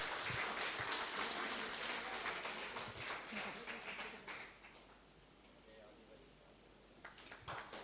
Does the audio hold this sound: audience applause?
yes